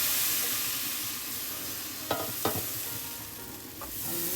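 Appam batter sizzles steadily in a hot pan, a soft continuous hiss broken by a few faint clicks of a utensil.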